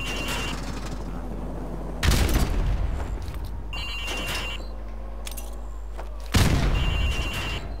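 Two heavy grenade blasts boom at windows on a Call of Duty: Modern Warfare Remastered demolition range, spaced about four seconds apart, each a loud, deep burst that decays into rumbling debris amid a ringing background tone.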